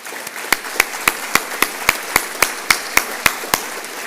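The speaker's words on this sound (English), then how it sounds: "So I think that in itself is worth a round of applause." Slow, evenly spaced claps ring out about three times a second at the formal launch event of the Solent Freeport in a hall, sharp and fairly close, over a low room murmur with no voices.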